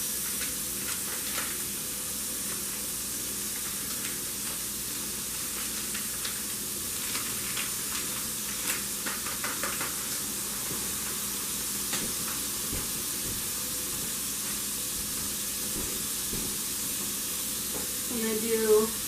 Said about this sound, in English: You hear that sizzle? That's what you're looking for.